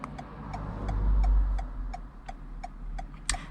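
Cars pass through an intersection while a driver waits to complete a right turn on a driving test route in Roselands. A low engine rumble swells and fades under the steady, rhythmic ticking of a turn-signal indicator.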